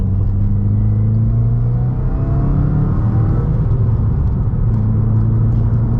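A 2019 Subaru WRX driving along Porter Ridge Road, heard from inside as a loud, steady engine drone and road rumble with slight rises in pitch, and no talking.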